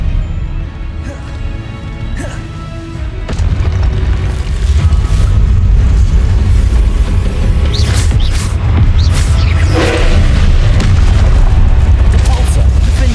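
Spell blasts booming repeatedly in the Hogwarts Legacy video game, loud explosive hits and crashes layered over a dense rumbling battle din, with a voice shouting spell names throughout.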